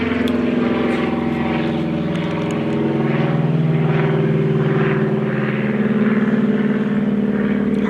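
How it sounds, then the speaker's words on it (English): Propeller airplanes pass overhead above a home garden, giving a loud, continuous droning hum that swells slightly partway through and holds steady with no speech. "Sorry about the airplanes."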